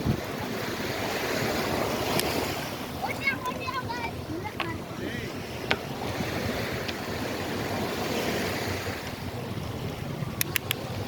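Wind gusts across Fort Myers Beach in Florida on a hot day, a constant loud rush of buffeting microphone noise with faint surf underneath and a few small clicks.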